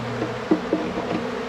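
A close, steady hum of honey bees swarms around a hive at a farm apiary, with a couple of brief louder buzzes as single bees fly past, and no voices.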